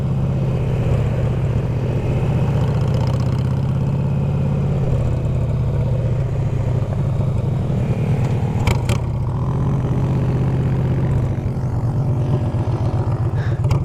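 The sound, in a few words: Honda Ruckus trike four-stroke engine running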